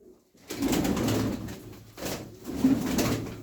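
Pigeon cooing at close range, with a coloured fancy pigeon among a flock: two long rolling coo phrases separated by a short pause, moderately loud and with no talk over them.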